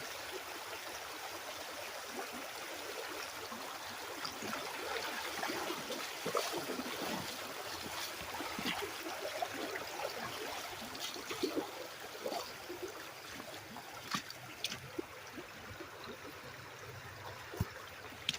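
Water rushes and trickles in a creek inside a cave, a constant close wash of flow with small splashes and drips over it, no voices.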